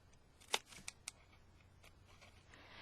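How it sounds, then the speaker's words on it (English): Scissors snip paper for a small glitter house, three quick crisp cuts close by, the first loudest, then quiet rustling. "So here we go. Snip, snip, snip."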